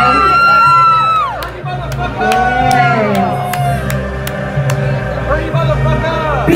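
A concert crowd at a hip-hop show yells, whoops and cheers loudly and continuously, with sharp shouts and whistles rising above the steady roar of the audience.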